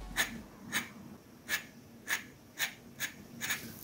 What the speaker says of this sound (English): you could hear it scratching against the paper as you ink.